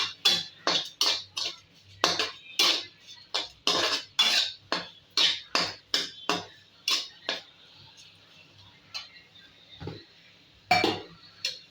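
A spatula scrapes and clacks against a pan in quick repeated strokes while a ridge gourd stir-fry is stirred, close and rhythmic, slowing and spacing out toward the end.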